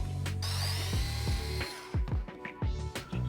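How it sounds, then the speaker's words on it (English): A power tool whirs in short bursts while backing screws out of an ATV rear axle in a workshop, the motor spinning up and winding down several times in quick succession, close and fairly loud. "We've got just a few screws to remove."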